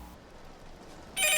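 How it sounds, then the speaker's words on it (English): A telephone rings once, a short, sharp bell-like ring at the end that follows a quiet, tense stretch, in the French horror film Them (2006). "It all starts with a creepy phone call."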